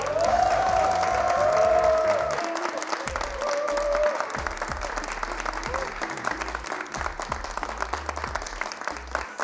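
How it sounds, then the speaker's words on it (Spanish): A TV studio audience applauds on a comedy show, a full burst of clapping with some cheering that starts loud and gradually thins, while a voice speaks over it early on. "para que Juanito ya escuche este aplauso"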